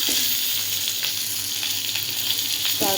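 Potatoes fry with panch phoron in a little mustard oil, producing a loud, continuous crackling sizzle close up, with a few utensil scrapes and clinks from stirring and no voices.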